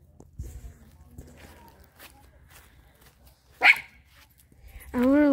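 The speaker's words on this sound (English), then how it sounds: "Whatever is he barking at?" A pet dog barks outdoors, a few scattered yaps giving way to a louder bark and a sustained, whining final bark near the end, with soft footsteps and faint voices in the background.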